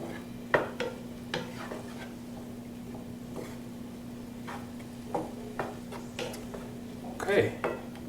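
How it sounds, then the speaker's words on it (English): Broccoli sautéing in a pan over low to moderate heat, with a steady hum underneath and scattered scraping and tapping as it is stirred often; faint sizzle, with a utensil clink near the end. "Sauteing simply means just cooking the food to low to moderate heat and just stirring them frequently."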